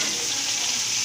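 Half a kilo of washed chicken drops into a hot pan with tomatoes, giving a loud, dense, continuous sizzle up close.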